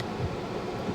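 A steady car air-conditioning fan hiss fills the cabin of a 2025 Toyota 4Runner TRD Pro, a constant airy rush close by with no talking and no change in level.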